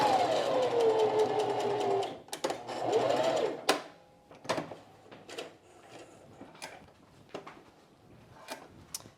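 A sewing machine runs briefly through quilted jacket layers, whirring for a couple of seconds, then gives way to scattered clicks and handling knocks of the machine and fabric.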